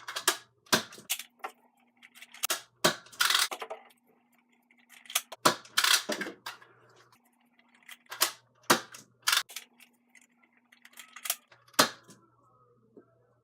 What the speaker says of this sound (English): Now firing standard blue elite darts.